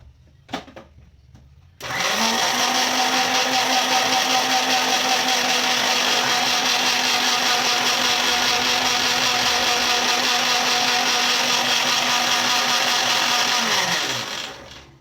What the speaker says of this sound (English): So we need to blend this more